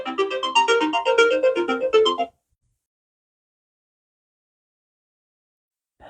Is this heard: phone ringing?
yes